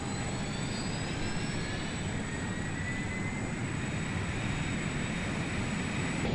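Learjet 35 engine spooling up in a FlySimWare flight simulator, a steady broadband jet roar with a faint high whine rising gradually, continuous and even throughout.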